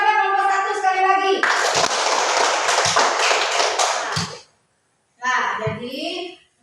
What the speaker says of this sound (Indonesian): Berikan aplaus kepada nomor 1 sekali lagi